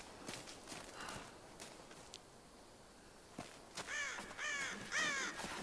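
Crows caw in Tomb Raider (2013), a few harsh, rasping calls clustered near the end after quieter ambient rustling and footstep-like sounds; the caws are fairly close and clear.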